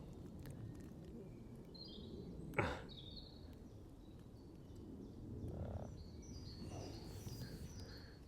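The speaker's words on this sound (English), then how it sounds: "we have got a little frog here" A small frog or toad croaking at a nature reserve, faint repeated croaks in quiet outdoor surroundings, with distant birds chirping and one sharp whooshing sound.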